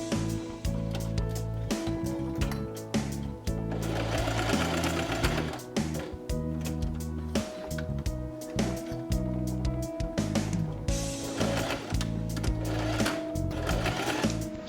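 Sewing machine stitching minky fabric along a traced pattern line, a continuous rapid mechanical chatter heard close up with brief pauses and speed changes.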